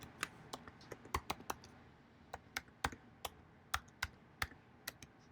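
A password typed on a computer keyboard, a quiet close run of irregular individual key clicks and taps, roughly a dozen and a half strokes with short pauses, no talking.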